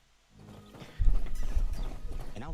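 Horse hooves clip-clop at a steady trot in the Crimson Desert video game, loud and close, with rhythmic thuds and a brief whinny-like sound at the end.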